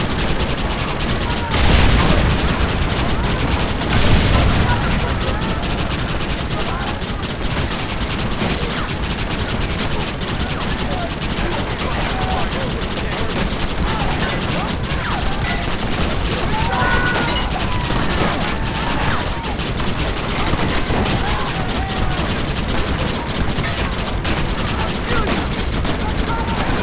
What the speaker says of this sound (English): What about the Gatling gun?